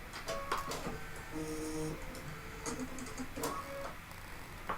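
Embroidery machine stitching metallic thread, giving quick mechanical ticks and clicks in an irregular run with faint whirring under them, moderately quiet and close.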